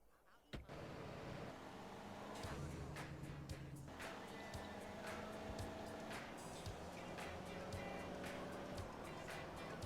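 A car engine hums steadily while driving in GTA San Andreas, with a door thud at the start, then a continuous drone and scattered clicks over the game's background sound, with voices faintly under it.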